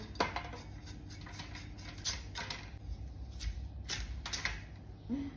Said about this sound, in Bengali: এখন কচুর মুখি কেটে নেবো।